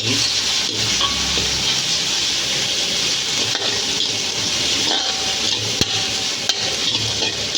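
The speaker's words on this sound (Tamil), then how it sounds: "இப்போ நல்லா மிக்ஸ் பண்ணி விட்டு இஞ்சி பூண்டு பச்சை வாசனை போகிற அளவுக்கு நல்லா மிக்ஸ் பண்ணி விட்டுருப்போம்" Onion and ginger-garlic paste fried and stirred in a pan for dry anchovy roast, giving a loud, continuous close sizzle with scraping from the spoon throughout and no talking.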